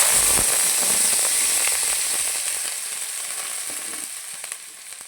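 Onion, garlic, ginger and curry leaves sauté in hot oil after mustard seeds have popped. A bright, steady sizzle starts loud and slowly fades, with a few sharp crackles and pops near the start and no talking.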